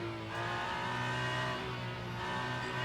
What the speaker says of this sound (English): You can just hear the Alpine struggling for traction.